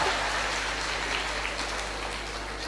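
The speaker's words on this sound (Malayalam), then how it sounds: "എല്ലാവരും ഒന്ന് കൈയടിച്ച് ആത്മാവിന് വേണ്ടിയിട്ട് ഒരു സന്തോഷം." An audience of more than two thousand teachers at a class applauds together, a dense continuous wash of clapping that holds steady and fades slightly toward the end.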